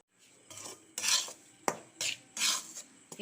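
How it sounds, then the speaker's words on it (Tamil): Ragi flour dough with a spoonful of oil being stirred in a pan with a spoon, giving repeated scraping and clinking strokes in an uneven rhythm, close and moderately loud, with no talking. "எண்ணெய் ஊற்றி நல்லா கிண்டி விட்டுக்கலாம்."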